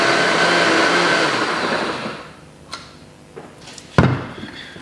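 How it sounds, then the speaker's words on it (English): A modest home blender whirs loudly and steadily as it blends a green superfood smoothie, then winds down and stops, leaving a few faint clicks and knocks near the end. "I don't have the greatest blender"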